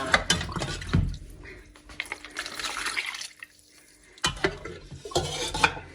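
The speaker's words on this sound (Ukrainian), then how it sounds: "І тепер холодним маринадом я її заливаю." Cold marinade is poured over mackerel packed in a bucket, giving splashy liquid bursts in two main pours separated by a quieter pause, close and fairly loud, with some knocks of the container.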